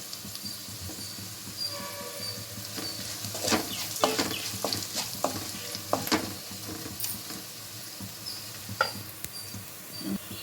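Onions and garlic sizzle and fry in a pan for a carrot stir-fry, a steady crackling hiss with scattered pops and stirring scrapes throughout, close and moderately loud.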